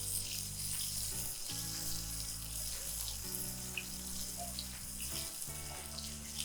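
Spicy chicken burger patties sizzle in a frying pan with a steady hiss and crackle. Occasional louder pops and shifts in the sizzle break the flow, with a low background hum underneath.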